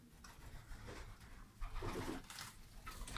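King meat-breed pigeons in a loft in Stavropol coo softly and steadily over a rough, noisy background, with a fuller burst of calls midway.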